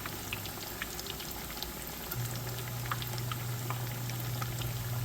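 Fat crackers frying in oil that is not quite hot enough give a steady soft bubbling and sizzling with scattered pops, close by and fairly quiet, with a low hum joining partway through and no talk.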